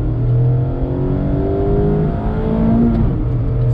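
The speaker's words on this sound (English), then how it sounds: "a little bit of an acceleration test from a dead stop, feathering the throttle, letting out clutch" A 2019 Mazda MX-5 Miata RF pulls away from a dead stop with feathered throttle and clutch release, its engine droning close and steady as revs climb, no voices.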